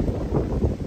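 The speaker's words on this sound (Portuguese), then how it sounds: "O desafio é grande porque o vento tá bem forte." Strong wind blowing by the sea while people wait for a boat, a steady low rumbling roar of wind buffeting the microphone, continuous and close, with no clear voices.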